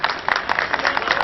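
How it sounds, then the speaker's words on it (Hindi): Audience at a Hindi poetry gathering clapping to welcome a poet, a brief dense burst of applause at moderate distance with a voice faintly present beneath. "आदरणीय योगेंद्र शर्मा जी की भी तालियों की गड़गड़ाहट से स्वागत करता हूं।"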